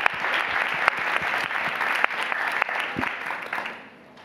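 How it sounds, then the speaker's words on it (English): Sustained applause from a town hall audience at a university event, steady dense clapping with a few cheers, fading out near the end. "could we get a round of applause for Meredith and Shreya for being incredible moderators?"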